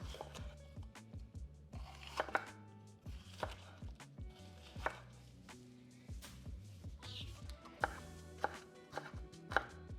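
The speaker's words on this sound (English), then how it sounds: "Cut up a red bell pepper." A knife cuts through a red bell pepper on a board, giving repeated crisp taps at an even pace with a few louder knocks, no voices.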